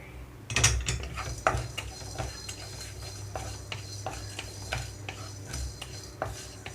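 Cumin seeds and black pepper dry-roast in a thick pan without oil, with close, light metallic scrapes and clinks of a spoon against the pan, irregular and fairly soft, a sharp knock near the start, and no talk.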